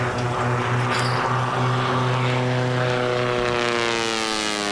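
Propeller biplanes, including a modified Pitts S1, race at the Reno Air Races 2018, a loud droning engine roar whose pitch sweeps down as an aircraft passes close by, with no talk over it.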